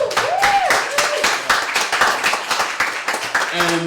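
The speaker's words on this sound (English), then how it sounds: "Let's give them a round of applause." Audience clapping for a bluegrass band at a battle-of-the-bands event, a busy patter of hands mixed with crowd voices and cheering, fairly close and lively throughout.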